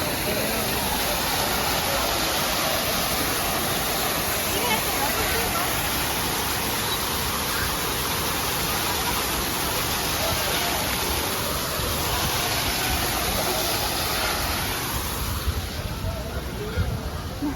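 Heavy rain pours inside the Philippine Biodome at Manila Ocean Park as a dense, constant hiss that fills the space for the whole stretch, with faint voices murmuring beneath.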